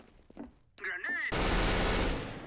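A grenade explodes in Counter-Strike: Global Offensive, a sudden loud broadband blast that lingers as a roaring rumble, preceded by a brief voice callout and a bouncing clink.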